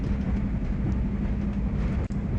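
A train entering a station in the video game The Last Express: a steady low rumble, dense and continuous, with faint rattling on top and a brief dip near the end.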